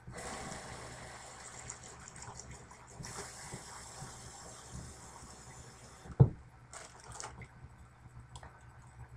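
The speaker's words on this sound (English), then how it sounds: "fill up the water halfway into the bag" Water gushes and splashes steadily into a plastic bag with a rustle of plastic, followed by a sharp knock and a few brief crinkling bursts.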